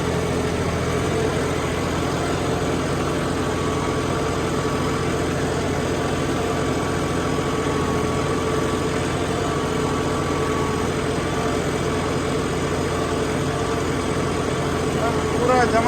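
A John Deere 5405 4WD tractor engine runs steadily at idle, a constant loud low rumble with no change in pace throughout.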